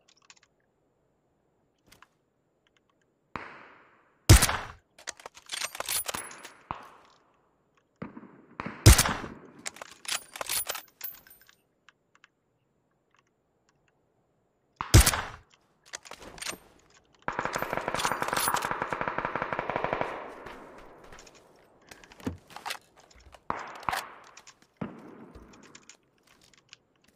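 Gunfire in a shooting video game comes in scattered sharp single shots and short bursts, with stretches of near silence and one longer dense burst of rapid fire, mixed with light clicking.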